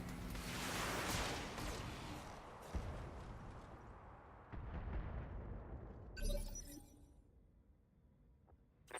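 Mech weapons firing in the BattleTech video game, a long roaring barrage with sharp impacts that fades out, then a bright crackling burst near the end.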